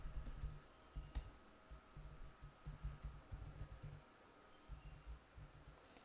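Keystrokes from typing on a computer keyboard while entering data, light irregular clicks in short bursts, fairly faint and close, with no talk.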